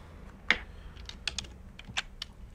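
Code is typed on a computer keyboard, with distinct, close keystrokes tapping out in an irregular rhythm. A few keys strike sharper and louder than the rest.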